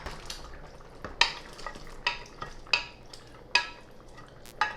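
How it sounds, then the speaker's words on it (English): Chicken going into a pot of Jamaican stew peas with coconut milk and garlic, several sharp clinks and scrapes of a spoon against the pot at irregular intervals over a soft sizzle. "now we're going to add our chicken"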